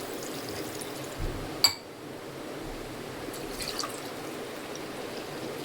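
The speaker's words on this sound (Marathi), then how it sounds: "ते थोडंसं असं पाणी असं खालीवर करून घ्यायचं थोडंसं. साखर विरघळेल मग याच्यामध्ये चांगली." Water with sugar being poured back and forth between vessels while making lemonade: soft liquid trickles and splashes, one sharp clink of glass near the middle, then quieter dripping, close and fairly faint, without speech.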